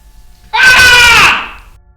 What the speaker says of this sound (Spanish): Hans gritó